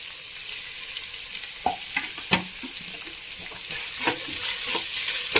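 Sliced onions sizzling in oil for a mushroom biryani, a constant close hiss broken by spoon clanks and scraping as they are stirred around the pan.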